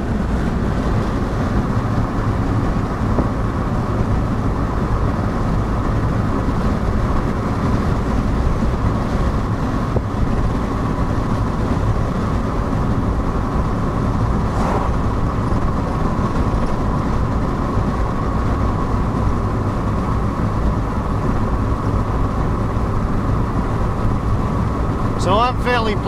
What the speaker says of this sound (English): 28-year-old car with an engine that's slightly smaller than 2 milk cartons in terms of displacement is able to accelerate.